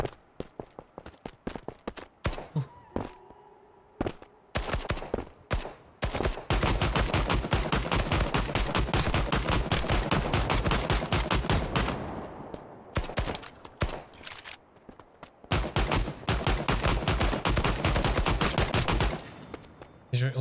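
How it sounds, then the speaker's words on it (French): Rapid gunfire in a video game, dense bursts of sharp shots in quick succession, nearly continuous for long stretches and broken by brief pauses, with footsteps among them. "J'ai entendu des balles de snipe."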